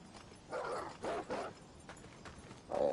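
Dogs bark in a video game, sending out a few short, separate yips and bow-wows in quick succession. The barks sound moderately close, pause briefly, and then one more bark comes at the end.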